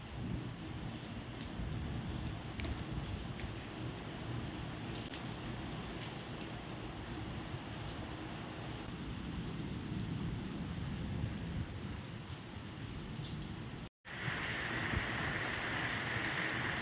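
Heavy storm rain in Lucknow keeps up a loud, continuous wash of falling water with low rumbling beneath it, broken by one brief dropout near the end.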